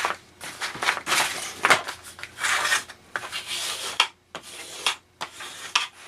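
A bookbinding tool burnishes down score lines and score tape on a hidden binding, giving a string of close, scratchy rubbing strokes in short bursts with brief pauses between them.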